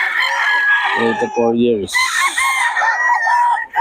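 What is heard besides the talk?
roosters crowing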